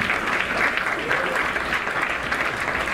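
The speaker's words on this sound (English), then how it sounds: "So let's give her a round of applause." An audience at a Miss Maui pageant applauds steadily, dense continuous clapping filling the room at moderate loudness.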